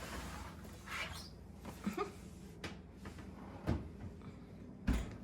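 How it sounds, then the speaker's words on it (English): Oven door opening while roasting Greek chicken for gyros, faint soft thumps and clunks spread over several seconds in a quiet kitchen, ending in a firmer knock, with no talk. "I'm going to open the oven back up, and we're going to put this back in for just a few minutes."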